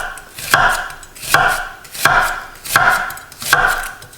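A knife finely dices an onion on a cutting board while baked rigatoni is prepared, five close, loud rounds of rapid chopping with brief pauses between bursts.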